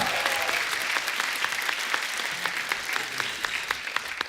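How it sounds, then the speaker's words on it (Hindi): Studio audience on a Hindi talk show giving loud applause to a welcomed film star, dense rapid clapping with distinct sharp claps punctuating a steady roar, no talk over it. "जोरदार तालियां"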